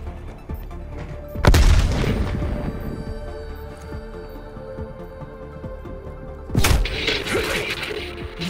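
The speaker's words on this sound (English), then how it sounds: "Throwing grenade." Two booming frag grenade explosions go off in Call of Duty Cold War, each a sharp loud blast with a rumbling tail, several seconds apart.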